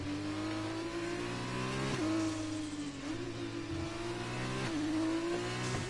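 An F2 race car on an out lap in a racing video game, at Abu Dhabi's Yas Marina, drones with a steady high-revving engine whine that rises and dips through gear changes, heard continuously and fairly close.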